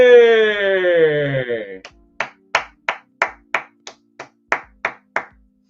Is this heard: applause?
yes